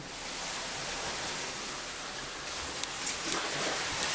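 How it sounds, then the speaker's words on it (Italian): Water rushes steadily on Solanas Beach, a dense, loud, continuous wash with a few faint clicks near the end and no voices. "Senti il rumore dell'acqua!"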